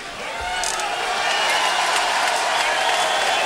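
A boxing crowd cheers and applauds after a world title defence fight, a swelling wash of clapping and crowd noise that builds quickly and holds steady and loud.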